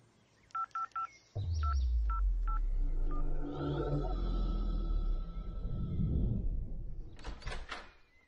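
A telephone number being dialed: a short run of distinct keypad beeps, then a few more spaced tones, followed by a louder low rumble and clattering movement that continues to the end.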